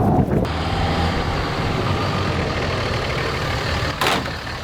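A truck engine runs steadily with a broad, loud rumble and hiss as it is driven around, with a brief louder burst near the end and no talk.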